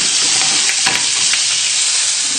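Fish fries skin side down in a hot pan with a loud, constant sizzle and spatter that holds steady, broken only by a few sharper crackles.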